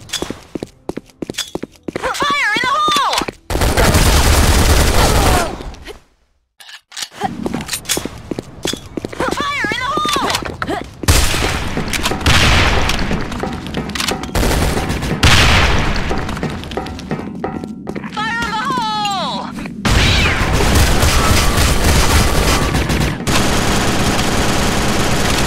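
Gunfire in a warehouse shooting video game, with loud bursts of rapid machine-gun fire and single booming shots coming in dense waves, broken by a short silent gap and brief whooshing effects.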